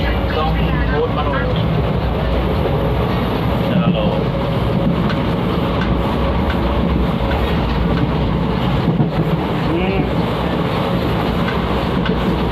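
A crowded passenger train running from New Bongaigaon towards Guwahati gives a steady, loud rumble and clatter of wheels, with passengers' voices murmuring underneath throughout.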